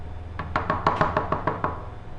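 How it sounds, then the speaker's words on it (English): About nine knocks on a door, close and fairly even, in a quick series that slows slightly toward the end, with no voices. "It started with a knock. Not loud, just wrong. Too slow, too deliberate."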